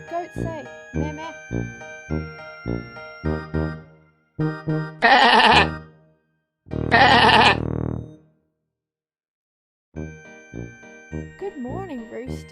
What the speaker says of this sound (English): Meet the playful goat. Meh, meh. Goat say meh,